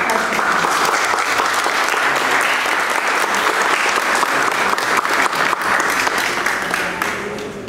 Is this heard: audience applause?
yes